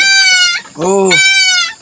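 A goat on a farm bleats loudly and close by, three drawn-out nasal cries in quick succession with a wavering, buzzy tone.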